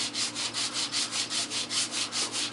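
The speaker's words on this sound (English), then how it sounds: "Scuff up your surface real good so that your paint, you know, stays on there real good." Sanding and scuffing an old wood surface by hand: a steady, rhythmic back-and-forth rasp of about ten even strokes, close and fairly loud, with no voices.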